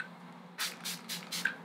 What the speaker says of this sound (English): Just to finish off, I am gonna go with this Watermelon Glow Fixing Spray.